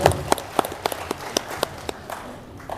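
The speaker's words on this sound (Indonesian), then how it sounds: "Tepuk tangan dulu atau buat tangannya." A handful of crowd members clap sparsely during a Hindu religious talk, with isolated sharp claps spaced irregularly and fading toward the end over a quiet room.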